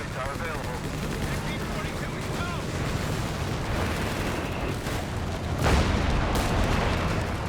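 Artillery shells bursting in the World War II strategy game Company of Heroes 3: a dense, continuous roar of battle noise with rumbling blasts and crackling fire, swelling into a heavier burst near the end.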